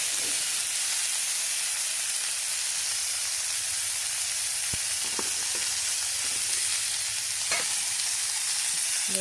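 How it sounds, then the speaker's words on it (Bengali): Masala frying in a pan while being stirred, a continuous even sizzle and hiss with occasional soft scrapes and taps of the spoon. "ভালোভাবে মশলাটাকে নাড়তে থাকবো।"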